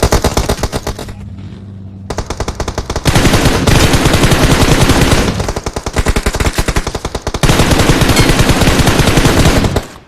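Automatic weapons fire in the mobile battle royale BGMI comes in loud, sustained rapid bursts, nearly continuous, with a short pause early on.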